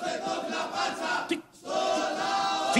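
An enraged mob shouting together, a dense roar of angry voices close by that drops out briefly midway and then surges back at full loudness.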